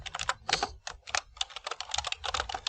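Fast typing on a computer keyboard, dense bursts of clicky keystrokes at a close, moderate level over faint background hum, with no talk.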